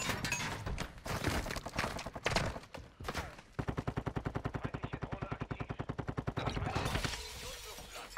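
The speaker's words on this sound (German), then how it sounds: "Ja, die schießen schon. Die schießen schon." Enemy gunfire in the battle royale shooter Warzone 2, scattered shots and bursts followed by a long steady automatic rifle stream of evenly spaced rapid cracks, moderately close.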